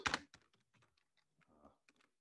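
Someone types a meeting note on a computer keyboard during an online webinar: a loud opening burst of keystrokes, then scattered, softer key taps in an uneven rhythm, close up, with no voices.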